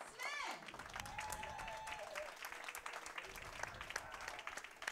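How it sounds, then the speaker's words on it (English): Bowling fans applaud their champion at a PWBA Regional Showdown final, steady clapping filling the space while an announcer's voice rises early and talk carries on over the crowd. "let's give a huge round of applause to our champion, Miss Carrie"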